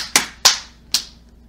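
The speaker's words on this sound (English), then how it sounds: "Everybody clap your hands." Three sharp hand claps ring out alone, close and loud, spaced unevenly with short decays between them.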